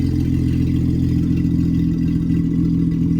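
A Honda Accord's J35 V6 running with no muffler, a loud, deep, steady engine drone close by with a strong low rumble and a slight rise in intensity.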